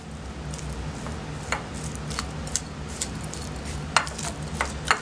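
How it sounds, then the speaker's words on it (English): A spoon stirs a vegan tempeh salad with mayonnaise, flax seasoning and freshly ground black pepper. Soft, squishy scrapes and occasional clinks of utensil against bowl sound steadily over a low background hum. "Then we're going to mix this up."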